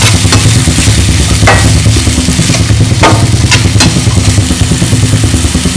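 Onion mixture stirred in a frying pan for an egg Maggi dosa, a steady loud sizzle with scraping spoon strokes and clinks, continuous and close.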